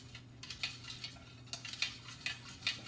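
A utensil stirs melted candle wax in a pot, giving soft, irregular scraping clinks against the container, faint and close, with no talking.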